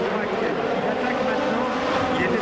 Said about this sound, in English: Bark of the engine and the flash from the turbo as he sets the car up just to go right